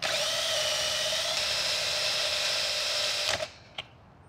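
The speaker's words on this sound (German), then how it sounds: "und schleifen die Radnarbe sauber." A cordless drill grinds an Audi A6 rear wheel hub clean, continuously at a steady high pitch, then stops abruptly, followed by a small clack.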